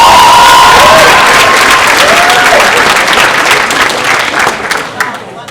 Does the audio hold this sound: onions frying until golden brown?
no